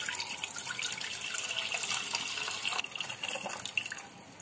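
A little water is poured into a cooking pot before milk is added when making homemade yogurt, a soft, brief splashing trickle heard alone at low volume.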